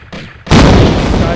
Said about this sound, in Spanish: Esa explosión un poquito.